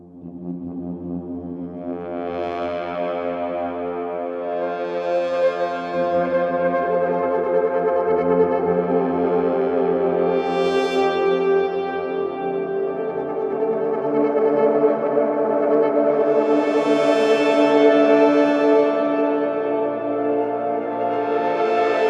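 A slowly evolving, droning brass texture with layered sustained tones that swell and shift in brightness, loud and continuous with no talking.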